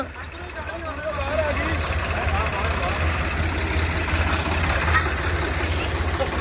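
A Swaraj 969 CRDI 4x4 tractor's engine drones low and steady as it strains to pull a straw-loaded trolley stuck in a wet field, rising slightly partway through, with voices heard over it.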